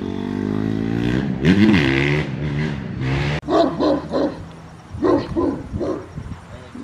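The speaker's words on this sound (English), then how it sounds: "Coot's barking because he don't like the bike." A dog named Coot barks loudly and repeatedly, some barks long and wavering like howls, close by, with a mini bike or small engine rumbling underneath.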